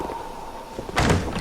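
A door opens in the Dark Souls 2 video game, a low hum and then a sudden heavy thunk and grinding burst near the end, loud and close.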